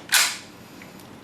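An AST WE SMG8 airsoft gun fires a single semi-auto shot, one sharp snapping crack near the start followed by quiet, with no talking.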